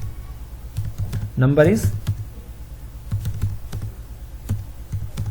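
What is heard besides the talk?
typing code on a computer keyboard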